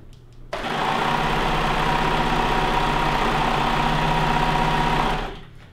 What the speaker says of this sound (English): with your serger, you're also trimming off fabric